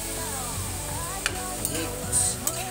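Mixed vegetables and mushrooms stirred in a pan, soft sizzling under a few light scraping knocks of a utensil against the pan, close and steady.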